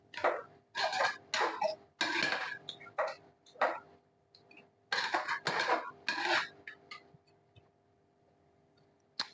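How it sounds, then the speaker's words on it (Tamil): Yogurt marinade for chicken biryani being stirred in a pot: repeated bursts of scraping and clinking from a spoon against the pot, in irregular bunches that fade out toward the end, with no talking. "தயிர்லாம் நல்லா மிக்ஸ் ஆகி வரட்டும்"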